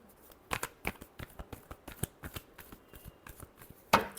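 A deck of tarot cards is shuffled by hand in a quick series of crisp riffling flicks, close and fairly quiet, ending in one sharper snap.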